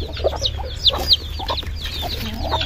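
Aseel hens cluck close by in a rapid series of short, sharp calls, with a steady background hum underneath.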